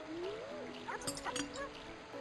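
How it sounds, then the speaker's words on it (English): Chao creatures from a Sonic video game yapping and chirping in the background, a few quick high squeaky calls over a steady hum of game sound. "I apologize for the sounds of the Chao in the background."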